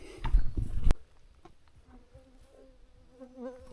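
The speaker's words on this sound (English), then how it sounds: "these mosquitoes are swarming you" Mosquitoes swarm in a forest on South Manitou Island, a faint, steady insect whine with thin buzzing tones drifting in and out after a loud, brief rustle at the start.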